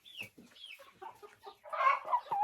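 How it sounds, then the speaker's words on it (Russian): Hens clucking close by in a quiet space, a few soft irregular clucks building to a louder burst near the end. "Вот такие курочки."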